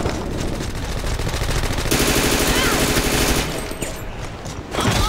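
Rapid submachine gun fire in a video game crackles in dense, continuous bursts, loud and close, overlapping with more shooting as a player talks excitedly.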